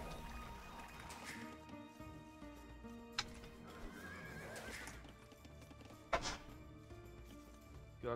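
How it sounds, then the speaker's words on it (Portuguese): A horse neighs and whinnies in a Battlefield video game, with galloping hoofbeats and game effects throughout, several distinct whinnies standing out clearly over a steady background. "Meu cavalo passou por dentro dele, tá lá na base dos caras."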